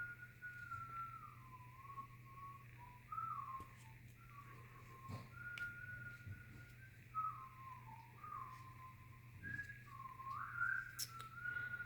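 A person whistles a meandering, warbling tune in fairly continuous phrases, moderately close, over a steady low hum.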